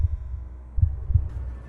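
A fast heartbeat sound effect in an animated horror story thuds in low, muffled double beats, loud and close, set over a quiet hum with no talking.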